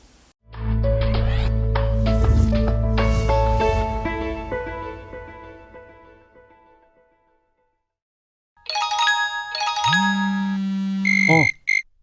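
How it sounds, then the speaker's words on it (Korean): Several different phone ringtones play one after another, first a loud layered melodic ring that fades away, then after a short silence a brighter electronic ringtone with a buzzing tone, both close and clear with no talking. "이렇게 많은 전화 벨소리 사이에서도 저는 제 전화기의 벨소리를 알아듣고 전화를 받았습니다"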